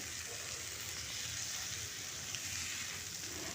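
Broad beans (sheem) fry in a wok in a village kitchen, giving a steady, soft, close hiss of sizzling oil throughout, with no talking.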